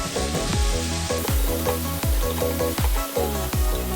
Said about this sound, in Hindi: मसाले डाल के हम कीमे को और प्याज़ों के साथ पका लेंगे।